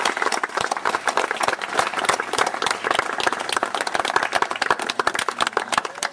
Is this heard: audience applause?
yes